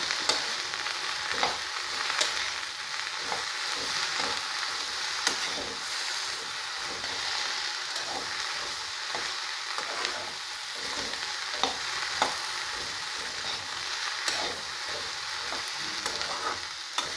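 Okra fries in a pan for gojju, a constant close sizzle broken by regular scraping strokes of a spatula stirring it, with no voices.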